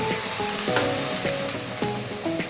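Ground cumin, ginger, chili and tomato paste sizzling in a frying pan, dense steady hiss with a few stirring scrapes, close and loud.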